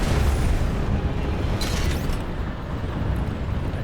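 A missile explosion in the video game PlanetSide 2, heard as a deep, sustained rumbling boom with a brief brighter crackle midway, loud and continuous throughout.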